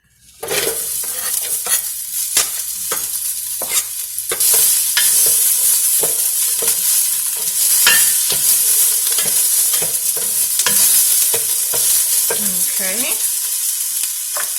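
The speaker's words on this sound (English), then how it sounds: "I'm going to add in about a tablespoon of olive oil. And I'm gonna throw in my onion." Chopped onion sizzles in a tablespoon of hot olive oil in a pan for Mexican meatball soup, a steady bright frying hiss broken by repeated scraping and stirring strokes from a utensil, close and prominent with no talking.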